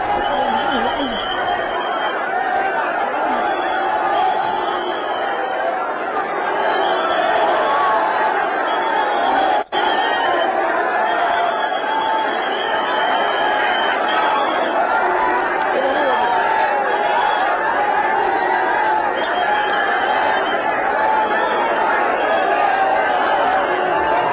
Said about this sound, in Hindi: अजीत पवार का पार्थिव शरीर विद्या प्रतिष्ठान पहुंचा है, जहां उन्हें श्रद्धांजलि देने के लिए भारी भीड़ उमड़ रही है।